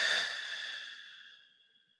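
One long, soft breath is let out during a guided breathing meditation, a deep airy exhale that starts fuller and gradually fades to near silence over about two seconds, heard alone and close.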